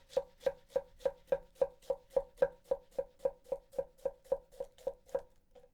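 A Yoshikane bunka knife push-chops through cabbage on a cutting board with about twenty evenly spaced, crisp knocks in a steady rhythm, close and clear with no talk.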